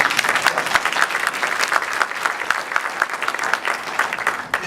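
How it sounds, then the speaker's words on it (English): Audience applause for Commissioner Taylor at a community event, a steady dense burst of many hands clapping that holds evenly at a moderate level throughout. "Join me. A round of applause for Commissioner"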